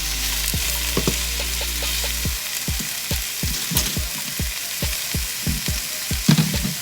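Shrimp and broccoli frying in a hot pan, a constant sizzle punctuated by a rapid series of sharp spatula taps and stirring knocks, close and fairly loud.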